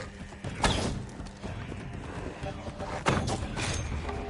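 Horse in the Assassin's Creed Valhalla video game, heard as a few hard hoof-like thumps over a steady game background, moderately close, with a voice speaking in the mix.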